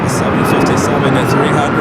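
United Airlines airliner arriving at LAX from Chicago O'Hare, a loud close roar of jet engines filling the whole short stretch, heard on the airport's north side.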